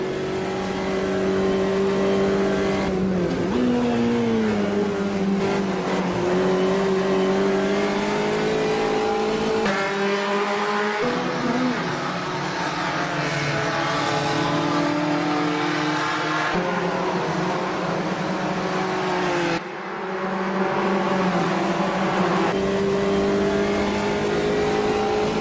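Race car engine of a classic Puma GTE in a racing video game, droning steadily and loud throughout with pitch climbing and dropping through gear changes, a brief dip near the end before it pulls again.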